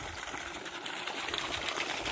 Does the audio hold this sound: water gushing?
yes